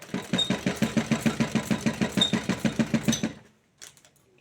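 A sewing machine stitches a blouse with a steady, rhythmic chug of about twenty needle strokes close by, then stops abruptly, followed by a brief faint handling sound.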